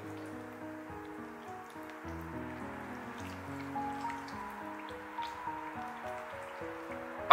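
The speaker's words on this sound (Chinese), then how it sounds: "再往里面加入温水，给它清洗干净" Warm water trickles and drips into a bowl of chicken legs being washed, a steady soft liquid pouring sound that stays fairly quiet throughout, with no talk.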